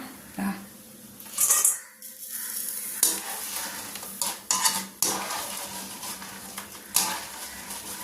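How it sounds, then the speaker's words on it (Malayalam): Freshly fried jackfruit seed murukku gets scooped from sizzling oil into a vessel, with repeated metal clanks and scrapes of a utensil against the pan over a steady frying hiss, nearby and with no speech. "നമുക്കിതൊരു പാത്രത്തിലേക്ക് മാറ്റാം"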